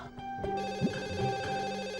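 A telephone rings during a TV serial domestic scene, a steady electronic ring with sustained tones carrying on for about two seconds at moderate loudness, with no voices over it.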